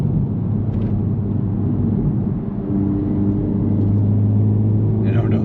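A Honda Civic Type R FL5 rumbles steadily under load, engine tone climbing slightly toward the end, with someone speaking over the drive.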